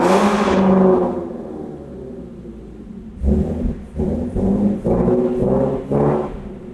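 A 1000 hp Ford Mustang engine fades out, then comes back in a series of close, throaty revs as the throttle blips up and down in quick succession.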